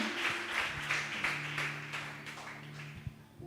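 A church congregation claps during a sermon, with faint, steady rhythmic claps under a held musical tone and some voices.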